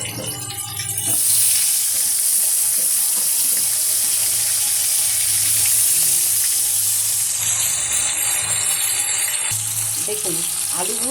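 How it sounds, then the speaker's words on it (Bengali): Potatoes and five-spice seeds fry in a wok, a loud, steady hiss and sizzle that carries close and continuous for several seconds, with faint clinks of stirring. "দেখুন আলু ভাজতে কড়াইতে দিয়ে দিলাম 5 ফোড়ন। এই জালের সাথে 5 ফোড়নটা ভাজা হবে।"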